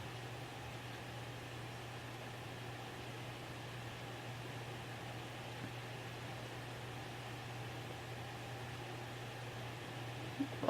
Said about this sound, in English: It's pouring down right outside, so if you can hear that, I'm sorry.